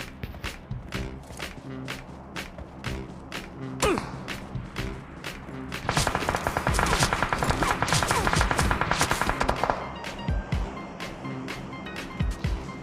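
Gunfire in the BGMI battle royale game, with an AWM sniper rifle involved: repeated sharp shots crack out over a busy in-game backdrop, with a dense burst of rapid fire in the middle before single shots return.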